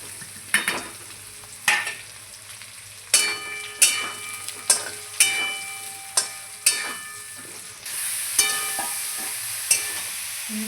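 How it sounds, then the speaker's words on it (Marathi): Stuffed bitter gourd (karela) pieces fry in hot oil with a garlic tempering, giving a steady sizzle broken by a regular series of sharp stirring and scraping strokes in the pan, close and clear, with no talking. "ही जी भरलेल्या फोडी आहेत त्या आपण या लसणामध्ये टाकून घेऊया फोडणीमध्ये"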